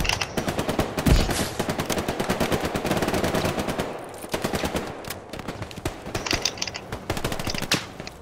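Sustained automatic gunfire in the World War II shooter Hell Let Loose, rapid loud bursts running almost without pause, with a heavy low thump near the start and sharper cracks later.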